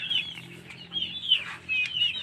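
Heritage chickens cluck and chirp at a farm, several overlapping high calls rising and falling at moderate distance, with faint rustling underneath.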